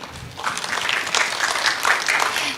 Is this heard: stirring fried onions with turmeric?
no